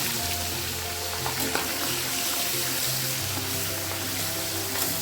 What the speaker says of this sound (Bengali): এদিকে ইলিশ মাছের মাথাটা ভেজে নেব।